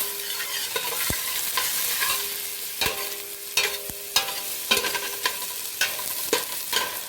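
Onions browning in a stock pot, with a soft steady sizzle broken by repeated scraping and clinking as they are stirred, close and fairly quiet, with no talking.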